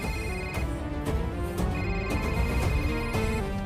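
A mobile phone rings during a scene in a South Indian action film, its loud, repeating melodic ringtone cycling steadily with no voices over it.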